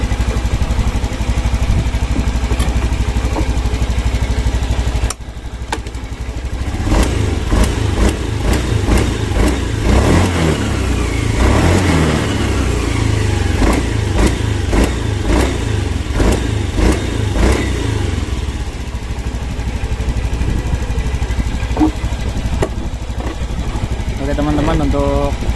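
A fuel-injected motorcycle with poor idle and sputtering runs its engine, rising from a steady idle into a string of sharp throttle blips and revs, loud and close, with someone talking over it.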